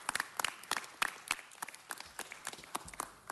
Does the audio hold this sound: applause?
yes